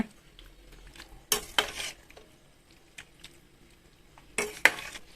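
A spoon stirs oyster sauce and salt into a pot of Thai bamboo shoot soup, with a few loud scraping, clinking bursts against the pot between quieter stretches and a low background hum.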